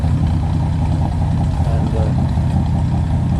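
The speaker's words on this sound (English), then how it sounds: "that's what the old girl sounds like when she's ticking over" An old 1950 Chevrolet engine idles steadily up close through a small round muffler, a low, even rumble with a regular pulsing beat and no revving.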